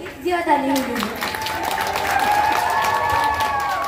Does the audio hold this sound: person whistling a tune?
no